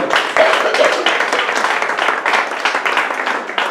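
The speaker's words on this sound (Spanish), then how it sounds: "Yo pido un aplauso para don Aurelio Gabaldón" An audience applauds for tenor Aurelio Gabaldón at a talk on Christopher Columbus, steady close clapping throughout with a couple of faint vocal whoops early on.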